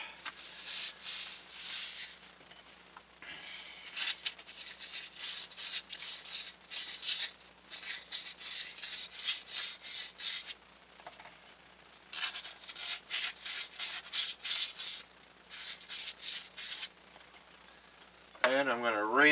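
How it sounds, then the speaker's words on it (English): Standard sandpaper scrubs over metal pressure tank fittings in quick back-and-forth bursts, rhythmic and close, broken by short pauses, with a brief whine near the end. "So I'm going to clean these suckers up real good. Some standard sandpaper."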